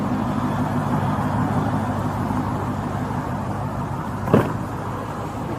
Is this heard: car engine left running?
yes